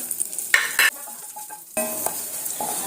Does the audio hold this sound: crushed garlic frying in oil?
yes